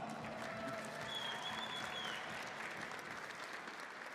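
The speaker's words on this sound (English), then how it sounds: "Let's give them one more round of applause." Steady applause from a crowd at a Dragon Ball Legends tournament, a dense continuous patter of clapping held at an even level, with a faint whistle.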